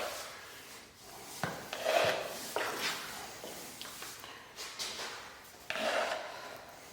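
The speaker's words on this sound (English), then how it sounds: "I'm just going to use this putty knife to kind of shovel me some out of there." A putty knife scrapes and scoops thick RedGard waterproofing membrane out of its container in a few short, close scraping strokes, with wet rubbing sounds between them and no talking.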